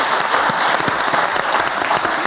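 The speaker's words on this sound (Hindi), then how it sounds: "तालियां नहीं बजानी थी," A television studio audience claps in a dense, steady burst of applause that fills the whole moment, loud and close, with no voices over it.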